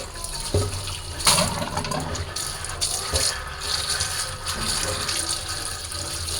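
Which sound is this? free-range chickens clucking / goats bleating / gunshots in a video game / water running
water running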